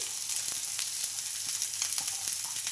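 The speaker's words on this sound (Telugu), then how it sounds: "కడాయి పెట్టేసుకొని ఇంకా ఆయిల్ కూడా హీట్ అయింది ఇంకా ఇప్పుడైతే ఆనియన్స్ అయితే వేసుకుంటున్నానండి" Chopped onions frying in hot oil in a kadai, a steady, loud sizzle up close with small crackles and stirring scrapes throughout.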